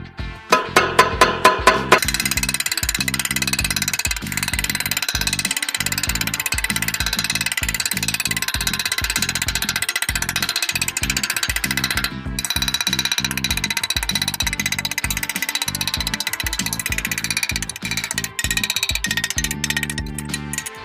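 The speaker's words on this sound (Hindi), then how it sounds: "तो अभी हम इसको टकोरना शुरू करते हैं।" A glass sheet is tapped over and over to knock out the round hole for a 6-inch exhaust fan: quick, close, evenly spaced taps that run on for about twenty seconds without a break, with no talking.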